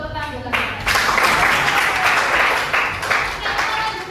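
Classroom applause for a student named Adam: a broad wash of clapping from many hands, starting after a brief moment and carrying steadily at moderate loudness, with faint voices mixed in.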